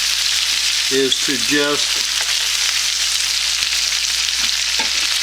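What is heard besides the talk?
salmon seared in a hot pan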